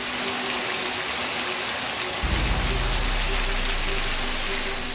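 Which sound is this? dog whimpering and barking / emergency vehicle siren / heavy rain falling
heavy rain falling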